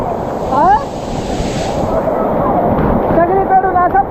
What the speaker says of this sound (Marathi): सगळीकडून असं पाणी पडतंय बघू शकताय मित्रांनो एकदम जबरदस्त.